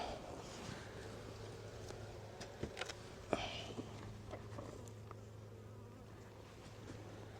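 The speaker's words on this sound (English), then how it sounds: "There's a guard bee that's buzzing my head." A honey bee guarding its hive buzzes close around a beekeeper's head during an August hive check, a faint, wavering whine with a few soft clicks and taps, and no talking.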